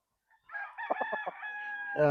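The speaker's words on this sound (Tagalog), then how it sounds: "would like to show you again our LDT line of Boston Roundhead acquired through Maalab Game Farm through very worshipful Ronnie Abbas" A Boston Roundhead gamefowl rooster of an LDT line crows once, loud and close, with a rising sustained call and broken pulsing notes, on a game farm.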